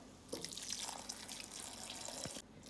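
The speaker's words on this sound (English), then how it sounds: "I'm gonna go in with my water now." Hot water poured from close by into a pot of chicken, basmati rice and red kidney beans, a soft steady splashing stream lasting a couple of seconds before cutting off, quiet with no talking.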